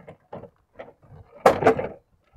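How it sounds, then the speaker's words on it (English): Plastic interior door panel of a Chevrolet Silverado being lifted off, heard as a series of close, soft creaks and taps followed by a louder double crack and rattle as the panel comes free. "you can actually grab the door panel and lift up"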